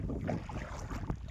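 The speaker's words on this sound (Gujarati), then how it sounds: "ઠંડો ઠંડો પવન" Cool wind gusting by the sea near a farm, a soft, steady rushing buffet against the microphone with no voices.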